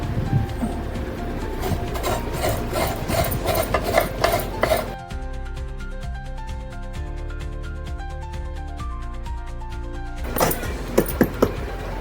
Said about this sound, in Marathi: पातोळ्यासाठी आता बारीक खोबरं किसून घ्यावूया